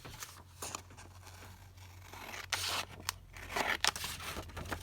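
Scissors snipping through paper while cutting out a printed image for a paper pouch craft, several quiet close-up cuts and crinkles in uneven bursts over a faint low hum.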